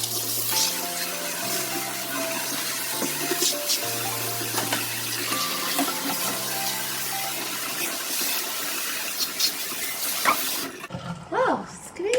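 Running tap water pours steadily while a fridge part is rinsed, a continuous splashing hiss beneath other background sounds, ending with a brief change near the close.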